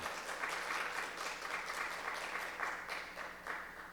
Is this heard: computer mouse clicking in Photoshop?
no